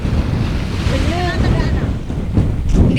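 Ocean waves surge and crash nearby at Estaca in Pangil, a loud churning roar with heavy wind buffeting the microphone, and voices briefly heard over the surf.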